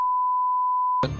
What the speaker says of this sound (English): You understand why we bleeped that, right?